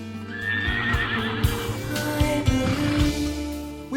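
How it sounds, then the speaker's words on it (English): A Gypsy Vanner horse gives a loud, close whinny that rises and trails off over several seconds, with hoof clip-clops and stable knocks underneath. "We're very proud of the beautiful Gypsy Vanner horses who live here."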